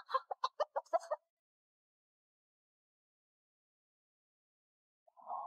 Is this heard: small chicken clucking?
yes